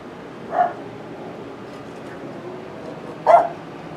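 Two short, faint dog barks, well apart, sounding somewhat distant over a quiet outdoor background.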